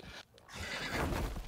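A horse in a video game gives one loud, close, rough neigh that lasts about a second, with no talk over it.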